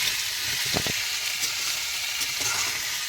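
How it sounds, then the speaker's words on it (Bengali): Potatoes fried with spices in a pan give a close, continuous sizzle with a few scraping stirs, and no voices. "কিন্তু মশলা দিয়ে আলু কষানো হচ্ছে।"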